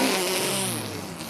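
Ferrari engine revving, a loud, steady droning roar with harmonic layers that sags slightly in pitch near the end, heard close up with no talking.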